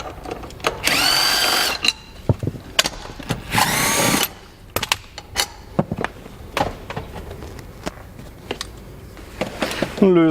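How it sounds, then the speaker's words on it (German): Power tool, likely a drill, loosening a BMW F-Series seat to install subwoofers beneath it, running in two loud bursts with clicks and clunks of work between, close by. "Dazu lösen wir den Sitz, kloppen den nach hinten."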